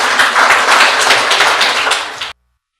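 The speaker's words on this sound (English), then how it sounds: "So let's give him a big applause." An audience at a lecture-style talk applauds in a loud, steady stretch of clapping that stops abruptly.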